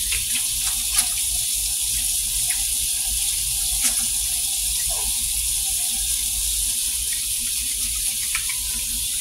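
Steady hiss of water running from a tap while hands are washed, close and continuous with faint splashing and small knocks.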